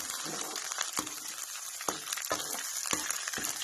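Green chillies sizzle in very hot oil for sabudana khichdi, a dense frying crackle close by, broken by several sharp spatula scrapes at irregular intervals.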